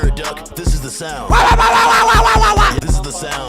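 A voice imitates a duck with loud, rhythmic nasal quacking bursts, close and alone.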